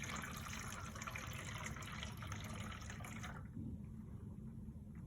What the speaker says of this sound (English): And I will pour